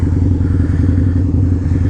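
A Harley motorcycle riding through a snowy blizzard, its engine a loud, steady low rumble with wind noise, close and continuous throughout.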